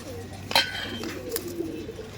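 Soft cooing of Giribaz pigeons in a loft close by, a few low burbling calls over a faint background hum, with a brief sharp rustle partway through.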